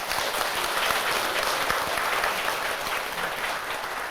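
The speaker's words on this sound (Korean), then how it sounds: "박수 한번 부탁드립니다." Sustained applause from a live audience at a Korean talk or lecture session, steady dense clapping at fairly close range, filling the whole stretch without a break.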